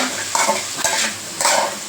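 Diced potatoes sizzle steadily in a hot pan while a utensil stirs and scrapes through them in a couple of quick passes.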